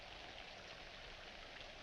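Steady rain falling outdoors, a dense, even hiss of drops at low level with no voices over it.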